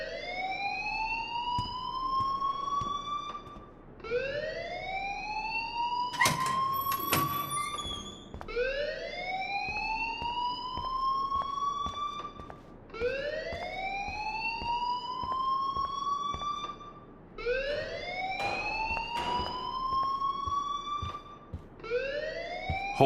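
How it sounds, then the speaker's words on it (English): A school alarm in Life Is Strange wails in repeated rising sweeps, about every four seconds. It is loud and steady, with a brief clatter partway through. "please turn off that alarm since that's your job"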